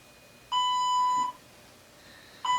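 A workout interval timer sounds a long electronic beep lasting under a second, then a second beep starts after a short gap, clear and close in a quiet room.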